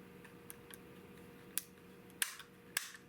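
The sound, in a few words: 16 gauge European guild shotgun dry-firing, both barrels clicking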